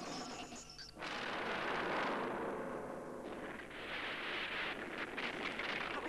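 A film explosion in a space-mission movie, a sudden deep roaring blast that swells and rumbles on for several seconds, heard alone without dialogue.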